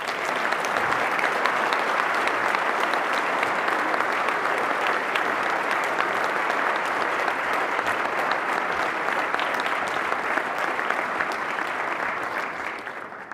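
A conference audience applauds to welcome BlackBerry CEO Thorsten Heins, with steady, loud, sustained clapping from a large crowd that keeps going for over ten seconds before fading slightly.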